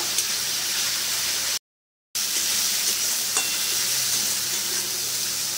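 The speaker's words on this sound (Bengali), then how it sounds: "আদা রসুনের পেস্টটা ভালো করে কষিয়ে নেবো, কাঁচা গন্ধ যাতে চলে যায়, ভালো করে কষিয়ে নেব।" Ginger garlic paste sizzles in a pan while being stirred for a rohu fish curry, a continuous frying hiss with scrape strokes, briefly cut to silence partway through, no talk.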